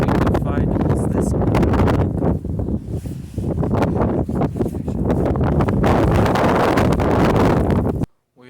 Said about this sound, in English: A very cold and windy day